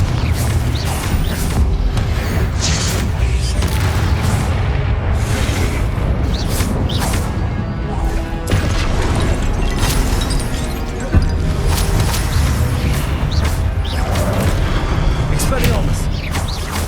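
Repeated Confringo blasting curse explosions in Hogwarts Legacy boom loudly and steadily, a dense barrage of crashes and low rumbles mixed with other combat spell effects throughout a long stretch of fighting.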